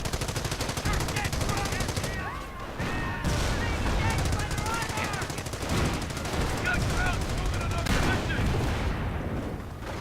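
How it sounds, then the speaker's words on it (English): Machine gun bursts and sniper shots ring out in a WWII strategy game battle with Grenadiers and Panzer IV tanks, dense continuous gunfire under a steady talking commentator. "The 30 caliber suppressing as many Grenadiers as possible. Sniper firing away."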